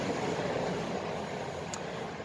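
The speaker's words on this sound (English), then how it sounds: "Oh, another train! Come on, trains, go away. This one is long." A long train rolls past a park in a steady, loud, broadband rumble that holds evenly throughout, with no voices over it.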